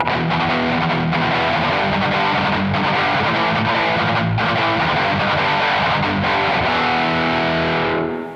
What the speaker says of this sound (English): how to play a galloping rhythm